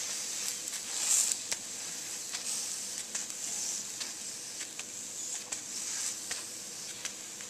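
Thepla flatbread frying with oil on a hot griddle, a steady bright sizzle with occasional small pops and a brief louder hiss, no talk.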